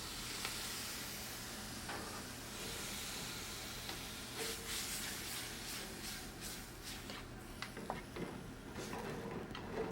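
Chopped tomatoes and their juice cooking in a pan, a steady soft sizzle and steamy hiss with occasional faint clicks and stirring sounds.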